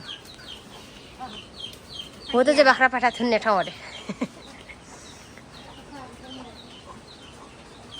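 Hens and chicks clucking softly in a bamboo coop beside a goat shed, with a short burst of louder calls in the middle of the clip; a person talks faintly around them.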